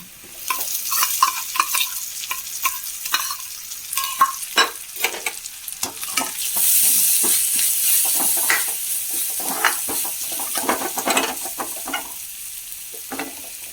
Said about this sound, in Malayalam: ഒന്നര സ്പൂണോളം മുളക് പൊടി ഇട്ടിട്ടുണ്ട് നന്നായി ഒന്ന് മൂപ്പിച്ചെടുക്കാം